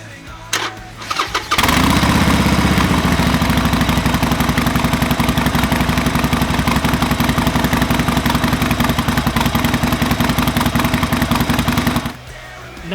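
A 2018 Harley-Davidson Sportster 1200 Iron engine fires up and runs at a loud, steady, close lumpy idle for about ten seconds, with a metallic rattle from the brake-side forward control mixed into the rhythmic pulses before it shuts off.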